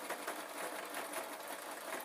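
A sewing machine stitches fabric for a travel pillow, giving a steady, close mechanical whir that runs unbroken for about two seconds.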